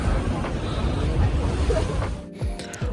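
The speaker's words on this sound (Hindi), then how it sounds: "हवा चल रही है हल्की हल्की, जिसकी वजह से लहरें बन रही हैं।" Sea waves stirred by a light wind lap along the Kennedy Town waterfront on Hong Kong Island, a soft, continuous wash of water with gusty wind buffeting the microphone, ending in a few brief clunks.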